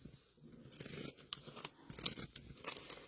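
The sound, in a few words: scissors cutting folded fabric for a baby bib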